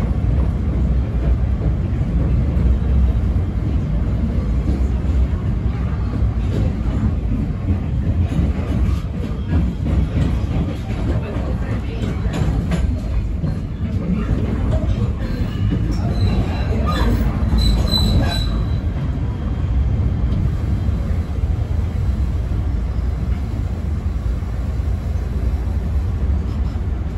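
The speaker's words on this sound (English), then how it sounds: "This is the train to World Trade Center." A PATH train rolls toward World Trade Center, a loud, continuous rumble of wheels on track with long stretches of high metallic squealing around curves, heard from inside the car with no talk.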